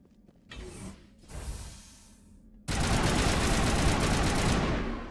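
Enemy gunfire in Mass Effect Legendary Edition starts as a couple of softer bursts, then becomes a loud, steady rattle of rapid shots that lasts several seconds with no voices.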